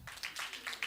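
A short burst of audience applause at a home-based childcare forum: a second of quick, scattered claps, fairly faint and heard from across the room.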